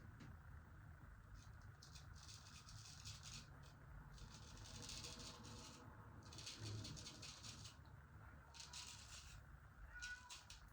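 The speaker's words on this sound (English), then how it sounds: "That's my cat outside." A pet cat meowing outdoors, heard faintly and at a distance through steady background hiss, with a few soft calls spread across the stretch.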